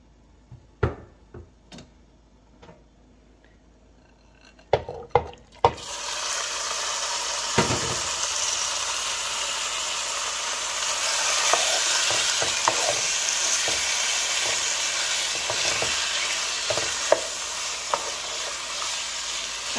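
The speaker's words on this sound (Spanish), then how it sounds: "Aquí voy a dejar que se fría 8 minutos." Chicken fajitas go into hot oil in a pan with a few sharp clicks and clatters, and then a loud, steady sizzle of frying takes over and continues, with occasional utensil taps.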